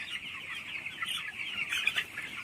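Many chicks in a village poultry shed with sawdust bedding keep up a dense, continuous chorus of high peeping, close and steady with small swells in loudness.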